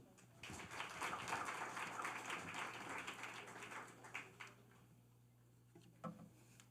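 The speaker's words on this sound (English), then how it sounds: "Clap it up." Crowd applause at a film festival screening, a dense patter of many hands clapping at moderate distance, fading out into scattered claps and a few knocks.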